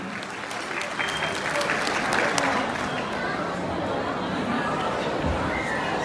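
Wedding crowd in Diyarbakır claps loudly as a performer is called up, a dense, sustained burst of applause with chatter and cheering mixed through it.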